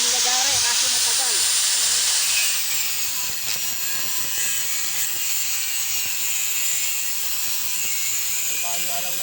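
A loud, steady high-pitched angle grinder whine cutting the metal shell of a refrigerator compressor runs throughout, with a slight drop in pitch early on and brief voices near the start and end.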